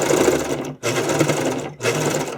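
Sewing machine running a long stitch through skate cover fabric, a close, loud, rapid whirring chatter in three steady bursts separated by brief pauses, with no talking.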